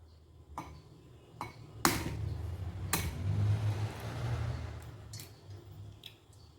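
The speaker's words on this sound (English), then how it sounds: "Now we break the egg and remove the white one" Chicken egg cracked and its white separated in a kitchen, with several sharp tapping clicks on a hard edge followed by quiet shell handling and faint rustling, close and fairly soft.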